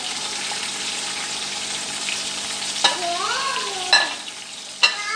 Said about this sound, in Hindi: इसको 5 मिनट भूनेंगे जब तक हमारे टमाटर सॉफ्ट नहीं हो जाते, मसाला भून नहीं जाता